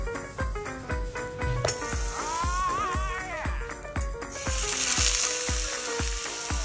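Sliced pork pan-fries over low heat in a small pan and sizzles with a bright, hissy crackle under a steady, loud rhythmic beat of background music.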